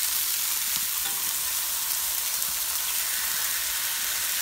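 Freshly flipped beef burger patties sizzle steadily on a barbecue grill, a close, even crackling hiss with no talk over it.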